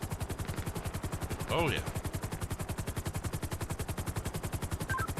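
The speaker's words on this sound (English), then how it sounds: "Definitely shots fired by suspect and officers." Rapid automatic gunfire in GTA 5 rattles on steadily in a fast, even rhythm of closely spaced shots throughout, loud and continuous, with a brief voice heard partway through.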